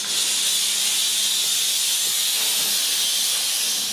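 Pur Steam Therma PRO 211 steam cleaner running with a scrub brush tool, a continuous loud, even steam hiss lasting the whole stretch with no talk.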